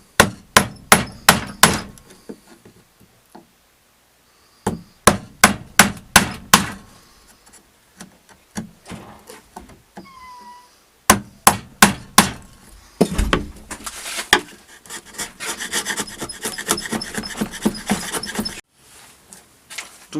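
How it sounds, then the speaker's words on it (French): Mallet blows driving a wide chisel into reclaimed wood for a kitchen door, sharp loud strikes in quick bursts separated by pauses, followed by scraping and rustling of wood. "je vais prendre un grand ciseau pour ça, un ciseau large"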